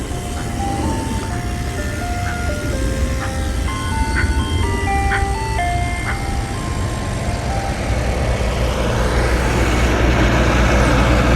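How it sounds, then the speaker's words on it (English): An ice cream truck on a street between Brooklyn and Queens plays its tinny melodic jingle, clearly audible over loud continuous road and engine noise that swells toward the end. "And there is a ice cream truck right there."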